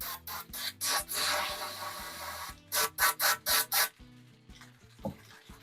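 A spray bottle mists down a rifle barrel in a string of short hissing bursts, a long spray in the middle, then four quick squirts in a row.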